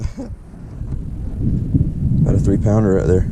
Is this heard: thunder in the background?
yes